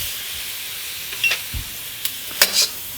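Soy sauce hits a hot pan of egg fried rice with a soft steady hiss, broken by a few short sharper sizzling bursts and light scrapes as the rice is stirred.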